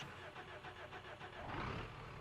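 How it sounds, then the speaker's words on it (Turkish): A bus engine starts and settles into a rumbling idle in the BeamNG.Drive driving game, a dense, steady mechanical drone filling the short clip with a slight rise near the end. "Otobüsümüzü çalıştırdık."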